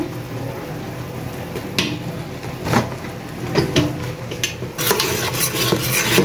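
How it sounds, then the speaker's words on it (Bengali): Spices with chili and ground coriander stirred and sautéed in a pan on a gas stove, heard as repeated scraping strokes of a spoon against the metal with light clinks over a quiet background hiss. "মশলাটা কষানো হোক"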